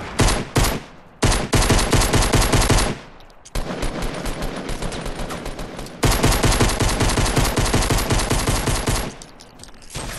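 Shotgun fire in Fortnite, dense bursts of loud gunfire in rapid strings with brief pauses between volleys, close and harsh, with no talking over it.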